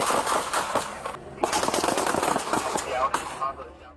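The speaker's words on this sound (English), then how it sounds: "The officers opened fire, striking the suspect." Police officers fire their guns at a suspect in a rapid volley of loud, sharp gunshots, repeated cracks in quick bursts with brief gaps, mixed with shouting voices.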